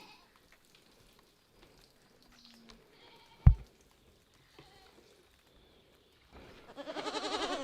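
Quiet surroundings with scattered small noises and a sharp knock, then a goat bleats in a long wavering cry near the end.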